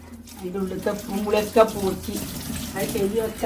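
Running tap water over food being washed in a home kitchen, steady flow under close conversation in Malayalam, voices dominating throughout.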